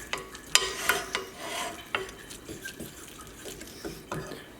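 Corn stirred and heated in a pan, with a soft steady sizzle and scattered scraping clicks from the spoon, fairly quiet and close.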